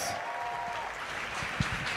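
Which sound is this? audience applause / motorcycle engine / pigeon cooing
audience applause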